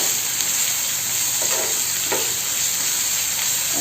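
Ginger garlic paste fries in a pan, a steady close hiss of sizzling oil that holds level throughout with a few soft stirring scrapes and no talking.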